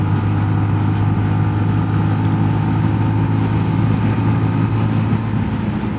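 A 2022 Sinnis GPX 125 motorcycle engine runs steadily and loudly throughout, a constant droning hum with no clear rise in revs, close up and without any talking.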